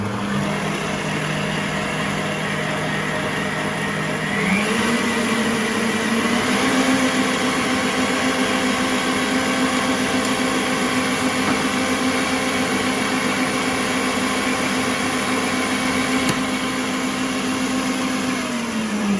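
An electric mixer beats eggs into creamed butter and sugar for a pound cake, giving a continuous loud whirring hum whose pitch rises slightly partway through and then holds steady.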